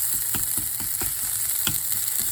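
Fresh ginger sizzles in a hot pan for a chicken curry made with steak, a steady bright frying hiss with soft rhythmic stirring taps underneath, close and even.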